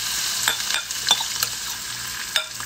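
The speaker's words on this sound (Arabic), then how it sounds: "ببتدي أشوحها،" Onion and leftover chicken stuffing sautéing and being stirred in a pot, a steady close sizzle with a few louder scraping stirs at irregular moments.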